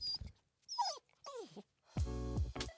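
A dog barks from downstairs during a call, giving a few sharp yelps and whiny barks with gaps between, ending in a longer, louder howling bark, fairly close and with no talking over it.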